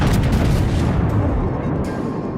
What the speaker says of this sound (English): decided to fire some shells towards the Gallant, even though it's AP